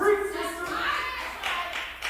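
Audience clapping at a comedy show, a short burst of applause of moderate loudness, with raised voices mixed in across the clapping.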